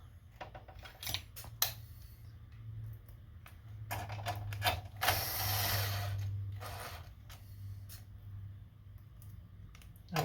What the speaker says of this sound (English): We just want to screw a couple in to hold it up.